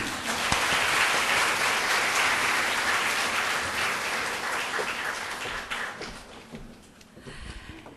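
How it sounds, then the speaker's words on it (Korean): Audience applause at a university debate contest final, dense and sustained clapping that starts full, fades gradually toward the end and thins out into scattered claps. "박수 아끼지 마시기 바랍니다."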